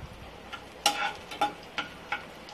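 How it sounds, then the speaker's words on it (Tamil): Small onions sautéing in sesame oil for a village-style fish curry, with a steady low sizzle broken by several sharp stirring scrapes and crackles at irregular intervals, close and fairly quiet. "இப்போ பாருங்கள், வெங்காயம் நல்லா வதங்குது."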